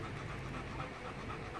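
A dog pants with rapid, steady breathing during obedience training, a continuous rough breathy rasp close by under a low background hum, with no clear pauses.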